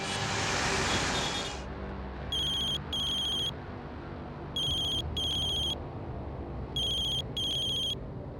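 A telephone rings in a TV drama scene. After a brief loud hiss, three paired electronic ring bursts repeat at even intervals over a quiet background hum, with no voices.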